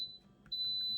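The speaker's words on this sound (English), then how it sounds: "The little beep that you just heard means that it's all ready to go." A high, thin electronic beep from a Russell Hobbs pressure cooker signalling it is ready sounds briefly, cuts out, then returns and holds steady, quiet and close.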